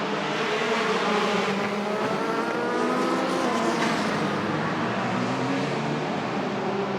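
Race cars at the Nürburgring during the 6 Hours endurance race accelerate back to racing speed, a dense, loud, continuous engine roar with rising and shifting pitch lines as several cars pull away together.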